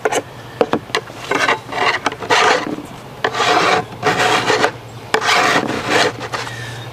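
A metal file rasps along a chainsaw bar, taking off ridges at an angle in long, smooth strokes. The scraping repeats close and loud in steady back-and-forth passes with short pauses between them.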